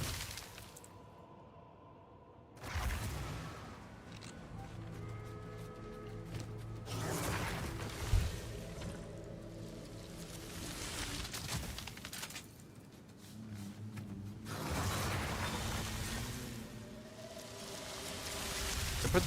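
Crafting effects in the video game Path of Exile 2: several bright crackling, shattering bursts separated by quieter stretches, fairly loud and close, with no talk.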